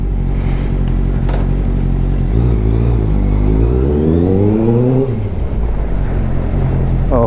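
Honda CBR650 superbike with a loud exhaust revving up close, a deep idle that climbs sharply in pitch, peaks and drops back to a steady rumble.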